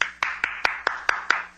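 Seven crisp hand claps ring out at an even, deliberate pace, close and alone, as a radio drama character applauds.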